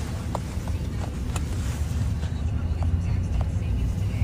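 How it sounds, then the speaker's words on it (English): A 2012 Dodge Ram on a test drive gives a steady, low engine and road rumble from inside the cab, with a few light taps and a voice at moments. "Let's take this one on a quick test drive and show you how this vehicle drives."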